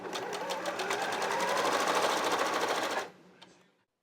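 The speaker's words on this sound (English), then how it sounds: "I'm going to sew on the 3rd column." Sewing machine stitching quilt pieces with a scant quarter-inch seam, a fast, even mechanical chatter running steadily up close for about three seconds before stopping, followed by a brief faint click.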